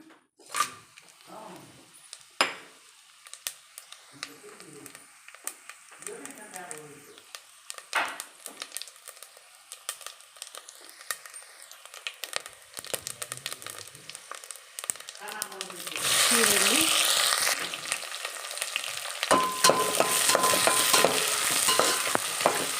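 Whole spices and onions fry in hot oil while a spatula scrapes and stirs the pan, with sizzling that swells into a loud, steady crackle in the second half; someone talks intermittently over it.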